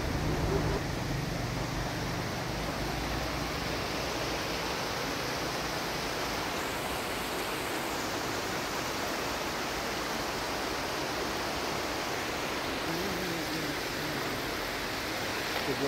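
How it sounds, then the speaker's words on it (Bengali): A large waterfall in the Lata Iskandar forest eco park in Cameron Highlands, Malaysia, roars as a dense, constant rushing wash of water, loud and unbroken from start to finish with no voices. "রাস্তা থেকে একদম দেখা যাচ্ছে বিশাল এক ঝর্ণা, মাশাআল্লাহ, অনেক বড় একটা ঝর্ণা।"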